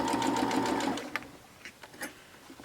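A sewing machine runs a steady, fast burst of stitching through pincushion fabric, then stops, leaving faint quiet handling sounds nearby.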